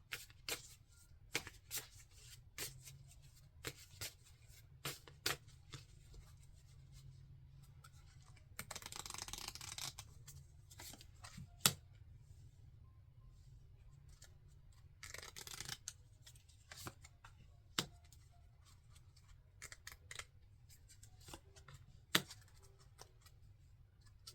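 Tarot cards being shuffled by hand up close, quiet repeated riffles and clicks in short bursts over about twenty seconds, with a few longer flurries and faint room noise.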